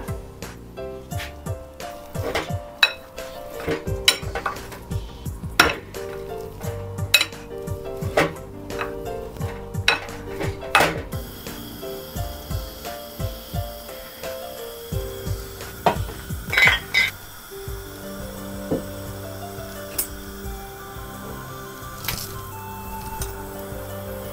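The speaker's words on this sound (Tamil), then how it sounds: "இதை இப்போ நல்லா ஸ்மாஷ் பண்ணிவிட்டு நம்ம அதில் மிக்ஸ் பண்ண போகிறோம்." Boiled potatoes and green peas being mashed in a bowl for samosa filling, giving a run of close squishing, scraping and tapping strokes that continue steadily, with no talk.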